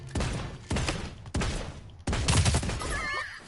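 A burst rifle fires in the Realm Royale video game, four sharp bursts of rapid shots spaced about half a second to a second apart, loud and close, with a brief squeaky sound effect at the end.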